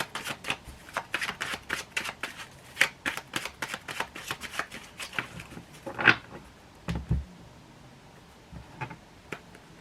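A deck of tarot cards shuffled by hand, giving a close run of quick crisp riffling snaps and flutters with short pauses between bursts, then a few slower taps near the end.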